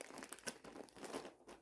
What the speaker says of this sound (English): I always get nervous cutting up these envelopes